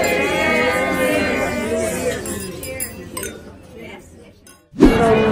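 Glasses clink together during a wedding toast, a cluster of bright chinks over lively crowd chatter that thins out, then a short loud burst of voices at the end.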